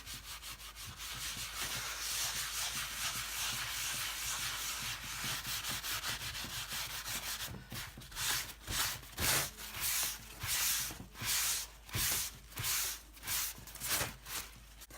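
Grain filler is rubbed by hand into the wood of a guitar kit body, a steady close scuffing that later breaks into rhythmic back-and-forth strokes, with no talk.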